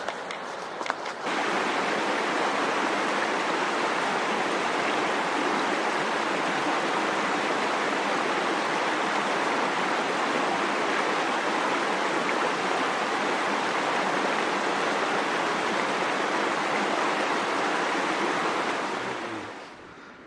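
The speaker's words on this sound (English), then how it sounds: "I'm going to go ahead and fill up my water here" A cooking pot is filled with water at a stream beside Alder Lake in the Catskill Mountains, with a steady, loud rushing of water running on for nearly twenty seconds before fading.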